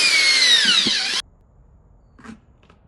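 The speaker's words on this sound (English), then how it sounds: "I've got my Black & Decker drill. I put on a sheetrock stirring, whatever it is, stirring tool" A Black & Decker drill fitted with a sheetrock stirring paddle spins in a bucket of clay, whining steadily and close for about a second before cutting off abruptly, followed by a soft knock and a brief rustle in quiet.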